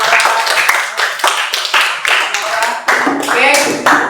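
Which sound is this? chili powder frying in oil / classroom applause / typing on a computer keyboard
classroom applause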